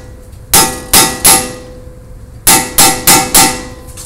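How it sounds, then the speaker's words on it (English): A hammer strikes a manual impact screwdriver to loosen a rusted bolt, with seven sharp metallic blows: three in quick succession, a pause, then four more, each ringing briefly and loud. "when I hit this with the hammer, it actually turns it slightly to the left."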